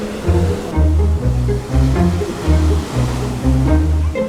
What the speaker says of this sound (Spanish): Las olas están mucho más grandes que en Playa Negra